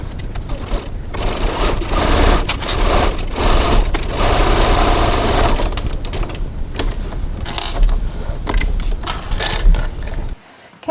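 Sewing machine stitching fabric at a 2.4 stitch length for a cross body bag, loud close rapid mechanical chattering in bursts with brief pauses and changes of speed, ending abruptly near the end.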